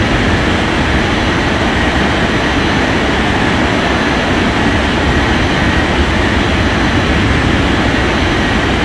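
Loud, steady roar of an airliner taking off in an air traffic control video game, a dense broadband jet rumble holding constant throughout with no pauses.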